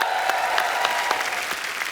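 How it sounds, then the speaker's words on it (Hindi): A studio audience on a comedy talk show claps for a guest's sister, a short burst of close, lively applause with crisp individual claps standing out. "इनके लिए भी जोरदार तालियां।"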